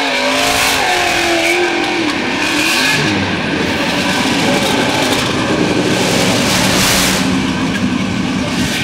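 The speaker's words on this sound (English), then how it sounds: "Heat race number 3 pushing off here tonight at the 10th annual Clyde Wood Memorial" Sprint race cars pushing off for a heat race at a dirt track memorial event, a loud, continuous roar of several engines revving and droning, with pitch swells as the cars pass.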